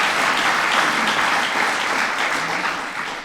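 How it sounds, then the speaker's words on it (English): Steady, dense applause from a large audience, loud and continuous throughout with no voices standing out. "Nothing wrong with clapping about that, yeah."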